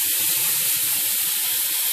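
Water poured into a hot pan while cooking cube steak and gravy erupts into a loud, steady steam sizzle and hiss that holds evenly throughout, with no voices.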